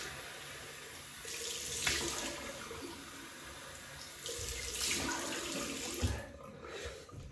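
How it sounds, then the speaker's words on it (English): Cold water gushes steadily from a tap into a sink, a continuous close hiss that swells and splashes in places, no voices. "Cold water rinse."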